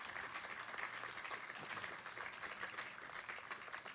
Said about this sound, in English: If we could give them a great round of applause for the great work that they have done.